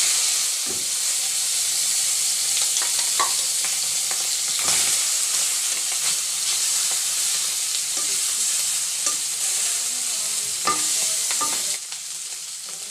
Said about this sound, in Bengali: এখন আমি মাছগুলো দিয়ে দেব কড়াইয়ে